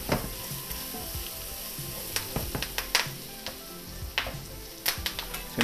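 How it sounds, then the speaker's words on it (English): Bacon, shallots and bay leaves fry steadily in a pan, a constant close sizzle broken by frequent sharp pops and crackles throughout, with no talk. "You can hear the bay leaves popping for that bacon to get a little bit more crispy"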